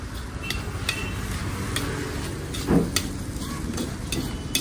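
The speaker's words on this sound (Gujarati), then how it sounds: "હવે પ્રોપર તરીકે એને સાતડી લઈએ, મિક્સ કરી લઈશું, પ્રોપર તરીકે હલાવી લઈશું આપણે" Masala for moong pulao being sautéed and stirred in a pan, with a steady low sizzle and scraping spoon strokes and one louder clatter partway through; no voices.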